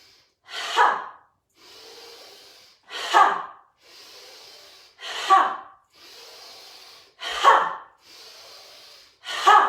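Noisy yoga breathing is heard up close, with no talk. Forceful exhales come as sharp, breathy bursts about every two seconds, and softer, hissing inhales fill the gaps between them.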